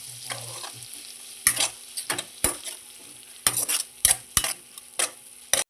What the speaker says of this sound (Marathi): कांदा टाकूया बारीक चिरलेला.